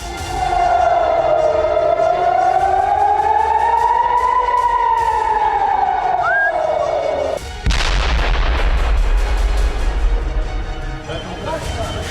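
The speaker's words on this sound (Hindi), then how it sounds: "सायरन की गूंजती आवाज के बीच आयरन डोम इन रॉकेट को नष्ट करता रहा" A wailing air-raid siren rises and falls over continuous rumbling, with sharp booms of Hezbollah rocket fire and Iron Dome interceptions breaking in loudly over northern Israel, followed by crackling blast noise.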